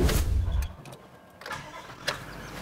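A touring rig's car engine cranks and catches, a loud burst at first that drops to a quieter idle with a few clicks and knocks in the cabin, with no talking.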